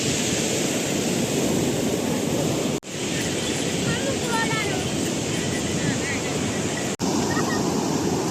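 Sea waves wash onto the beach at Puri in a steady, loud roar of surf with gusting wind buffeting the microphone, continuing with no voices heard.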